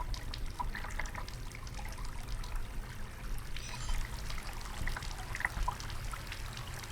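Water trickling and pouring through a pipe in the horror game Asylum, a steady soft dribbling stream with faint drips, quiet and continuous with no talking.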